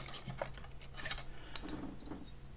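Polymer clay being shaved quickly with a blade, giving soft, faint scraping and light clinking strokes in an irregular rhythm, close up and quiet with no talking.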